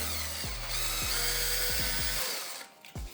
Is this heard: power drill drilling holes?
yes